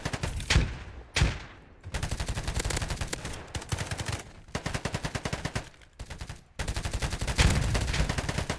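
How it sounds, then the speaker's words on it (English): Rapid bursts of gunfire from the Schuster gun in a free-to-play video game, loud and close, with two sharp single shots followed by sustained automatic volleys separated by short pauses. "Maybe it will be since I have this Schuster gun now"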